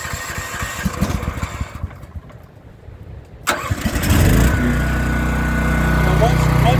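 A Champion dual fuel generator engine on propane, started at half choke, cranks with a sharp catch after a brief hush, then settles into a loud, steady running hum; someone talks early on.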